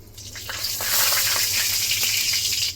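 Cumin sizzles in hot oil for Bengali chicken kosha, a loud continuous crackling fry heard close, with faint stirring underneath and no talking.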